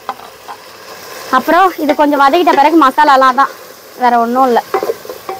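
Green chillies sauté in a hot pan with a steady soft sizzle and occasional stirring, mostly beneath a voice talking close by.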